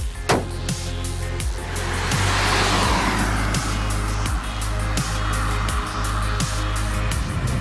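A 2014 Volkswagen Golf 1.4 TSI DSG Highline, a four-cylinder turbocharged petrol car, drives with a steady engine drone and rising, swelling road and engine noise throughout, heard from inside the car.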